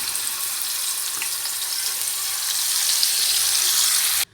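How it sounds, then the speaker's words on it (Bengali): Turmeric-coated parshe and patari fish fry in hot oil, making a loud, steady sizzle and hiss that runs unbroken for about four seconds before cutting off abruptly. "আর এখানে তেলও গরম হয়ে গিয়েছে। এখন পার্শে মাছ আর পাতাড়ি মাছগুলো সুন্দর করে ভেজে নেব।"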